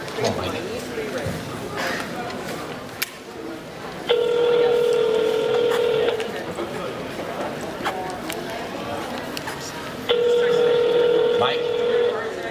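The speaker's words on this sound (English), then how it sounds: "All right, let's call Mike" Telephone dialing or calling tones, two steady beeps lasting about two seconds each and six seconds apart, heard over ongoing crowd chatter and room noise at a convention Q&A session.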